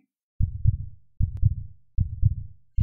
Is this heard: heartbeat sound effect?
yes